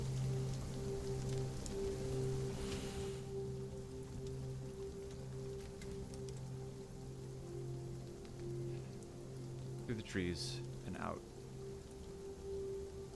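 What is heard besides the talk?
heavy rain falling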